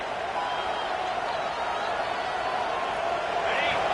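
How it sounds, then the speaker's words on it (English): A football stadium crowd roars in a steady, dense wash of cheering and noise early in a game, holding at an even level throughout with no distinct voices standing out. "This crowd bringing the energy and noise early."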